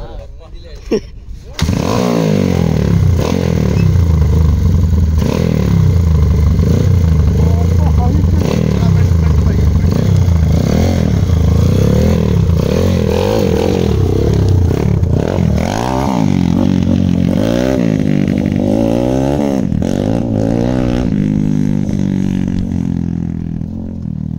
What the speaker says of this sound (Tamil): பார்ட்னர் பைக் இங்கே வந்து ரைட் பண்ணிகிட்ருக்காரு.